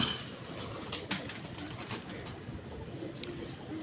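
Pigeons coo softly in a quiet space, with faint scattered calls and a light flutter of wings and no talk.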